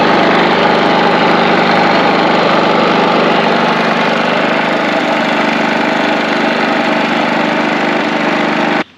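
A Westinghouse portable generator engine runs loud and close, holding a steady droning idle throughout before the sound cuts off abruptly at the very end.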